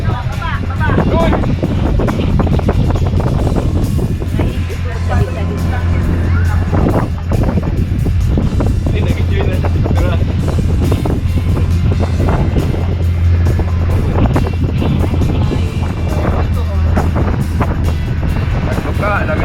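Strong wind roars steadily across the microphone while parasailing from a boat off Boracay, with a low engine drone underneath and people talking throughout.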